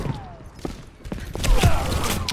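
A few sharp gunshots crack out in an Overwatch match, one sniper-style dead shot landing louder amid scattered game effects and busy in-game noise, with a voice speaking in between.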